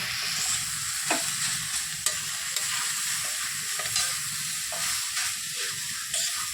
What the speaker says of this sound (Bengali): বন্ধুরা এই যে একটু ঢাকাটা খুলে দিলাম, দিয়ে একটু নেড়ে দিচ্ছি